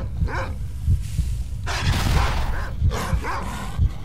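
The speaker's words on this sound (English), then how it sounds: "Dogs." Dogs in the video game Call of the Zone, barking and yelping repeatedly at moderate distance over a steady low ambient rumble.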